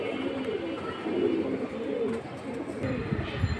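Large pigeons at a bird market coo steadily and close by in low, rolling phrases, with market noise in the background.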